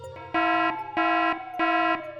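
A wailing police siren rising and falling in three sustained bursts outside a mansion at night, loud and close with steady tonal blasts and no talk.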